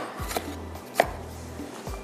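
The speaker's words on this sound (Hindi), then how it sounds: "थोड़े से आपने इस तरह से इसको कट कर लेंगे" A knife chops tomatoes on a cutting board in three distinct, close thuds spaced under a second apart. A low hum runs beneath the strikes, and no one speaks.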